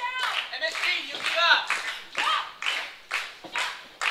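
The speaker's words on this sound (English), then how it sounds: "Crowd getting behind MSG" A wrestling crowd at an indie memorial cup show claps in steady rhythmic bursts, with a commentator talking over it.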